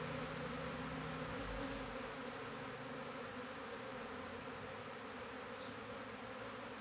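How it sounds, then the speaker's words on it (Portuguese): A swarm of Apis honeybees arriving at a hive box, a dense, steady buzzing drone from many insects that stays constant throughout, fairly faint and with no talking. "É muita abelha."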